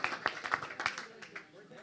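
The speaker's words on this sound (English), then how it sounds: "Would you give these 3 gentlemen a big round of applause?" Audience applause after a magic trick, a short burst of scattered claps that starts fairly strong and thins out over about two seconds.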